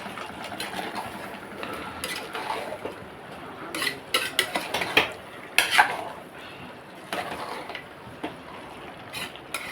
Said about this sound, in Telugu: కలుపుకుంటున్నామండి.